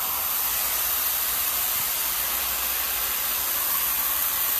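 A blow dryer runs while hair is dried during a long razor shag cut, a steady loud airy roar of broadband hiss that stays constant throughout with no talking.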